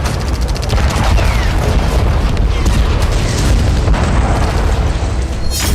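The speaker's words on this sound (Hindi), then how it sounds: "ताबड़तोड़ धमाकों से दहला खार्किव।" Explosions from Russian strikes on Kharkiv roar as a loud, continuous rumble of booms and bursts, dense and sustained, with no talking over them.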